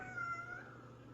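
A cat gives a single short meow, faint and indoors over a low steady hum, trailing off after about half a second.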